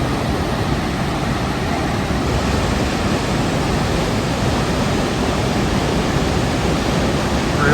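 Waterfall gushing at a Finger Lakes gorge in New York, a loud, steady, broadband roar of heavy falling water that continues unbroken throughout, with no voices.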